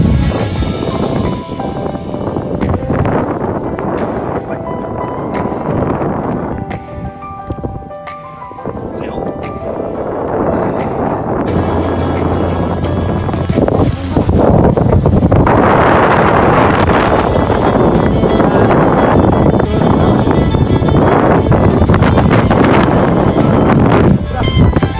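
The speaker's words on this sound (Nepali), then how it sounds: "त्यहीमाथि सररररररर हावा आउँदैछ" Strong wind gusts roar loudly and continuously across an exposed rocky hiking trail in the Appalachians, buffeting the microphone throughout, with voices occasionally mixed into the rush.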